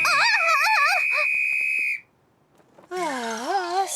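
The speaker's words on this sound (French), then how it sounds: "Et aussi nos propres sifflets." A shrill, warbling police-style whistle in an animated series trills loudly, stops, then after a short pause sounds again with a wavering pitch.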